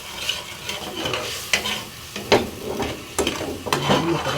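Mega sardines sautéing in a pan, with steady sizzling broken by several sharp stirring scrapes and clatters, close and fairly loud, no voices.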